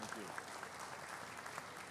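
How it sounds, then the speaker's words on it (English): Conference audience applauding the chairman at the NETmundial 2014 meeting, a steady wash of clapping from a large hall, moderately distant and even throughout. "you deserve a big round of applause, Mr. Chairman, you and all your colleagues"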